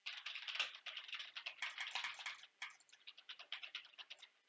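Rapid clicking on a computer keyboard mixed with mouse clicks, recorded through a Razer Kraken V3 HyperSense headset microphone with ambient noise reduction; continuous close, crisp taps in irregular bursts with no speech.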